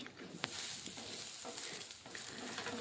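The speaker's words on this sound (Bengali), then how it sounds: "এখন আমি সোয়াবিনটা ভাজা করে নিচ্ছি" Soybean chunks fry lightly in a little oil in a pan, giving a soft, steady sizzle with a few faint stirring scrapes and one sharp tap, quiet and close.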